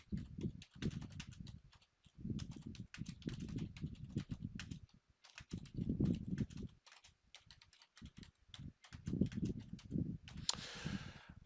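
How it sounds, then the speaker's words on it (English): Rapid typing on a computer keyboard, close and quiet, with bursts of key clicks separated by brief pauses. "And now I'm going to start typing."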